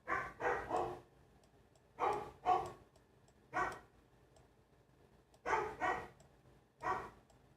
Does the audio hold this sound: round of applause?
no